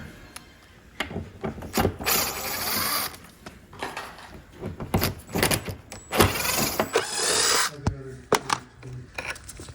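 Screws are backed out of a wooden drop leaf table with a ratcheting driver, bursts of clicking ratchet turns and woody creaks repeating at close range with short pauses between.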